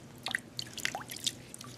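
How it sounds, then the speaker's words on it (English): Water trickles and drips onto a baby's hair during a bath, a close run of small wet splashes and droplets lasting under two seconds with no talking. "put some water in the baby's hair"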